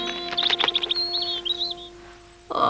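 A robin in an animated story gives a quick series of bright, high chirps followed by a short warbling trill, fairly faint and alone against a steady background hum.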